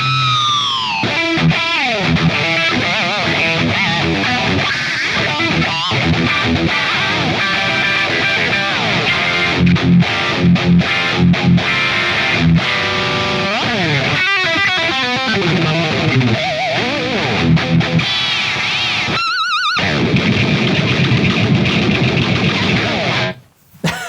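A heavily distorted electric guitar chugs and rings out loud and continuously, with riffs and sustained chords before cutting off abruptly at the end.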